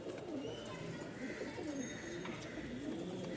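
Rajshahi Giribaz pigeons coo in low, rolling, repeated calls, close and continuous over a busy background of faint chirps and ambient noise.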